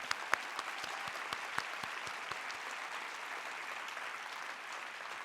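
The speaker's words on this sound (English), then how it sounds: "I think that deserves a round of applause" A forum audience at a presidential gun sense event in Iowa claps in sustained applause, a steady crackle of many hands with a few sharper individual claps standing out near the start.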